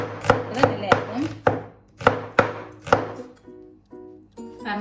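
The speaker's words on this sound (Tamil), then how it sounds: "இப்போ வெங்காயம் கட் பண்ண போகிறேன்." A knife chops an onion lengthwise on a board for prawn theeyal, about eight sharp, close thuds in an uneven rhythm, followed by softer slicing and shuffling sounds.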